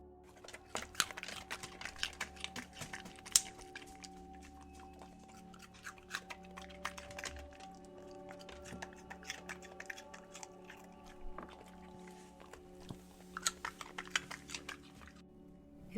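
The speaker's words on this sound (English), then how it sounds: "This is the sound of Marty and Link, my dogs, eating crunchy baby carrots while their nails go clickety-clack on the hardwood floor." Dogs crunching baby carrots, their nails clicking on a hardwood floor: quiet, close, irregular crisp crunches and scattered taps throughout, with no voices.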